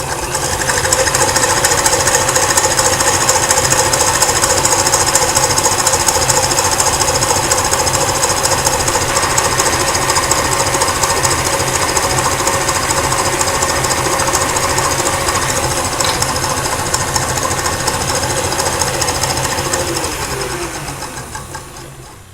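An electric mixer whips egg whites with caster sugar on high speed, a loud, steady buzzing whir with rapid rattling that runs continuously and fades slightly at the end.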